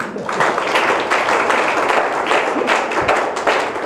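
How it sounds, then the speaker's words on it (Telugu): An audience claps steadily in a hall, a dense, even patter of hands sustained throughout without voices. "దీనికి చప్పట్లు కొట్టచ్చు."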